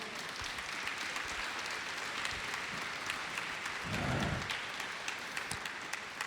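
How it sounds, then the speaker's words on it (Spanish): A church congregation claps for the Lord, a continuous wash of applause from many hands at moderate distance, with a brief low swell partway through. "¿Y por qué no aplaude fuerte al Señor?"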